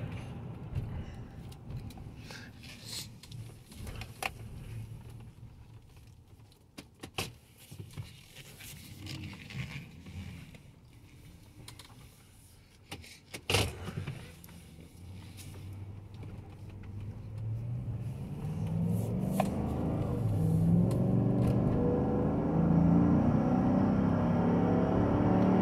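A 2020 Chevy Suburban, a repairable salvage vehicle, brakes hard at highway speed: road and tire roar with scattered clunks and creaks, then a swelling rumble as the vehicle slows and reaccelerates, heard from inside the cabin.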